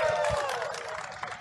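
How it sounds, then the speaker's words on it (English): A live conference audience at a diabetes scientific session cheers and applauds, a short, moderately quiet burst of clapping and crowd noise that fades out. "can I hear some loud cheering and applause?"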